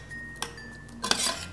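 A spoon stirring Mexican salsa of tomato, garlic powder, apple vinegar and oil in a pot, with a few faint metallic clinks and scrapes against the pot, close and quiet.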